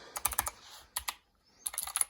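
Keys clatter on an HK Gaming GK61 mechanical keyboard, quick bursts of crisp clicks close to the microphone separated by a short pause, with no talking.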